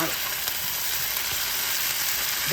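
Beef stew meat browns in a skillet with a continuous, close, even sizzle of frying that holds steady from start to finish, with no voices over it.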